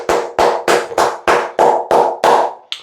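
Steady, close hand claps for Miami Dolphins player Waddle, about nine sharp even beats in a quick regular rhythm, loud and with no talking.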